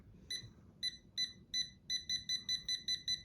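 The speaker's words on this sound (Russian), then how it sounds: "То есть где провод, там он начинает пищать." A multimeter in hidden-wiring detector mode, held near a wire, beeps in short, bright pulses that start sparse and then speed up into a regular rapid series, alone over faint background hum.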